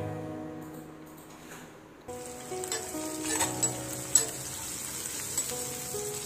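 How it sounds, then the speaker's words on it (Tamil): Onion frying in oil in a pan, a soft steady sizzle that grows louder and fuller partway through, with occasional stirring scrapes, close and without talk. "நல்லா ஆயிலில் குக் ஆகட்டும் இந்த ஆனியன்."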